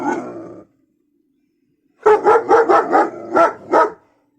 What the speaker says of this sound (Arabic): وحاطين هنا كلب في صندوق. ده جيرمان